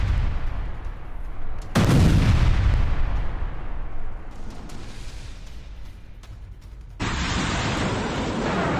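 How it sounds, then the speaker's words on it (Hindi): Missile attack explosions in news footage from the Israel–Gaza conflict: loud, heavy blasts and booming bursts, one sharp burst near two seconds followed by rumbling, then a sustained roaring blast near the end, with no voices. "ये मिसाइल गया और सीधे अटैक किया है"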